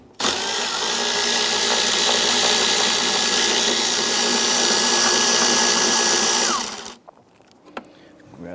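A ratchet with a short extension loosens a 10mm bolt behind the strut tower of a 2011-2021 Jeep Grand Cherokee 3.6L V6, making a loud, steady, close whirring for about six seconds that cuts off abruptly, followed by a faint single click.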